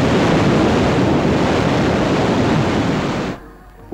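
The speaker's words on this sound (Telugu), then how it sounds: "అలలు" Sea waves wash in a steady, loud broadband roar with wind buffeting, then the surge cuts off abruptly near the end, leaving a quiet hush and a brief soft knock.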